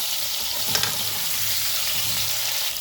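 Food sizzles steadily while frying in a pan for a drumstick (munagakaya) curry, with faint scraping as the pieces are stirred; the hiss is continuous and close.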